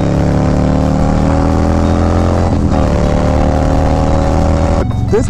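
A Harley-Davidson Low Rider ST motorcycle with the 131 engine rides steadily with a loud, continuous engine drone that rises gently in pitch, then dips briefly as the throttle eases near the end, with no talking.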